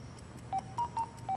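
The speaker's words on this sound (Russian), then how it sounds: "Это наш домашний телефон." A home telephone dials a number: four short electronic tones in a steady rhythm over a low background hum.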